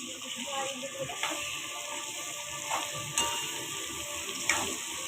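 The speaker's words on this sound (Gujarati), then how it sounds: "2 થી 3 મિનિટ તેલમાં જ પાકવા દઈએ" Chopped ridge gourd and a few peanuts frying in oil in a pan: a steady, moderate sizzle with soft crackle runs throughout, broken by a few brief clinks or stirring knocks.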